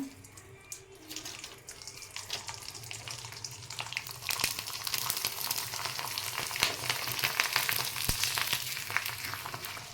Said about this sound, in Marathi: आता मी इकडं कढई ठेवलेली आहे तेल तापलं आहे तर आता तळून दाखवते